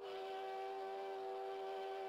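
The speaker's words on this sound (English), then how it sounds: "The factory whistle?" A factory whistle blows in one steady, sustained tone, held unbroken for the whole clip and sounding somewhat distant, with no voices over it.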